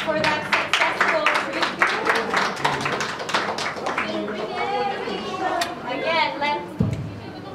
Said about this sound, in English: let's give yourselves a round of applause for that successful